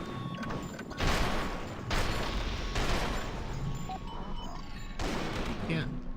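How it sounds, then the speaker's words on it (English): Video game combat in the Half-Life 2 mod EZ2: a thrown grenade and gunfire produce loud, rumbling bursts of shots and booms at roughly one-second intervals, with a game sound effect and a voice audible among them. "So, I throw a grenade closer to me."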